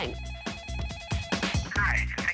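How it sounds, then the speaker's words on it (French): Telephone rings repeatedly with no answer when calling a restaurant, a steady electronic ring tone cycling under faint background sound, fairly close and clear. "Et quand j'ai eu le bon numéro, ça a sonné dans le vide."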